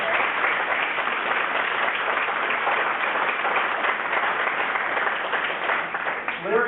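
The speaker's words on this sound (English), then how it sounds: "Let's give her a round of applause." An audience applauds at an AmeriCorps graduation ceremony, a dense, steady round of clapping that fills the whole stretch at close range.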